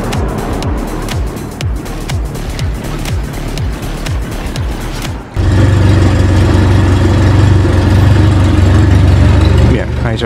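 Fiat 600 engine, under repair for a thermostat change, cranks in rapid pulses and then catches into a loud, steady idle, heard close up.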